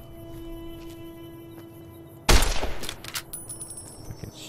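A single loud gunshot from an iron-sight gun in the video game Fallout New Vegas cracks out midway over a quiet humming background, followed by a few fainter echoing impacts and rattles.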